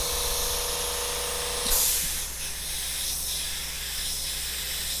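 A loud hiss of spray paint bursts out once onto a T-shirt and is followed by a few softer, shorter sprays over a steady background hum.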